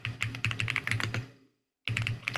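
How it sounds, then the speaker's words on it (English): Close, fast keystrokes on a computer keyboard clatter in a dense run, break off into a moment of silence, then resume just as quickly, with no speech. "It's typing away."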